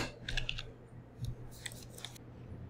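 Quick faint clicks of someone typing a short code on a computer keyboard, a few clustered keystrokes over a low steady room hum.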